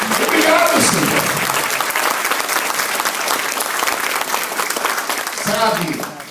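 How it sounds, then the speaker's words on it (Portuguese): A church congregation applauds throughout, a dense, steady wash of clapping and crowd noise, with a voice speaking over it at the start and again near the end. "Pode aplaudir o Senhor pelo que ele está fazendo no meio de vocês"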